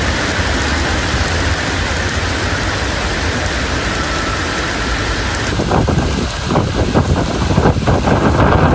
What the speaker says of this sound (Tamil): மின்னலுடன் மிதமான மழை பொழிந்தது